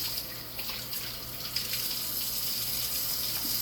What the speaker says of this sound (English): Let me rinse the meat real quick, and then I'll run the dishwater.